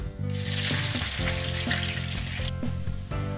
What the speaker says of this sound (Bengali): ফালি করে কেটে রাখা মরিচ এবং পেঁয়াজ তেলের মধ্যে দিয়ে দিচ্ছি